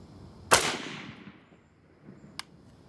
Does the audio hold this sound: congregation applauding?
no